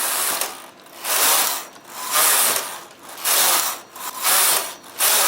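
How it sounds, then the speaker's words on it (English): A knitting machine knits rows of waste yarn, its carriage sliding back and forth in steady rasping, ratcheting sweeps, each pass a few seconds long and repeating evenly at close range. "And I'm going to knit 20 rows of waste yarn,"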